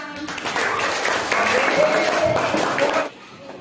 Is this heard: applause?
yes